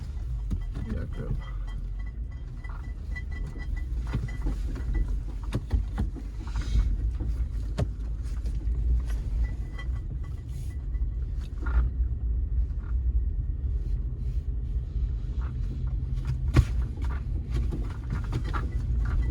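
A Toyota Land Cruiser grinds up a frozen, snowy cabin road in low first gear with the center differential locked, giving a steady low engine rumble and drivetrain drone throughout, with occasional knocks and crunches.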